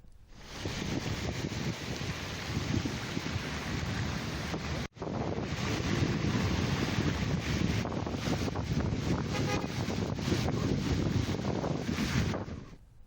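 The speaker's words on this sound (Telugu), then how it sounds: "మైపాడు బీచ్ వద్ద అలలు ఎగిసి పడుతున్నాయి" Strong cyclone wind buffets the microphone over surging sea waves at a beach on the Nellore coast, a loud continuous roar of surf and gusts with one brief dropout.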